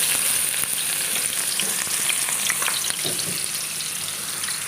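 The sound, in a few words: sautéing onion and garlic in hot oil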